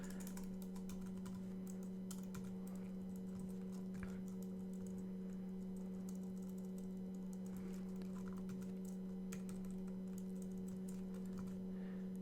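Code is typed on a computer keyboard, keys clicking in quick irregular bursts over a steady low electrical hum, close and fairly quiet.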